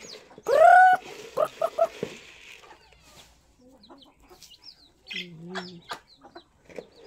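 Chickens cluck and squawk nearby, with a loud burst early on followed by scattered short clucks and calls.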